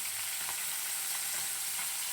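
Fish coated in salt and turmeric fries in a pan with a constant bright hiss and faint spattering pops, heard close and alone.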